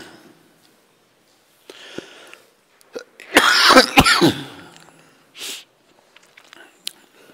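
A man delivering a morning religious discourse coughs and clears his throat in a few short, harsh bursts, with softer sniffs and breaths around them and quiet gaps between.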